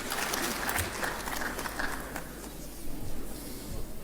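An audience at a closing session of Mali's Espace d'Interpellation Démocratique applauds to welcome a minister, a dense spell of clapping that fades slightly toward the end, moderately loud and without speech.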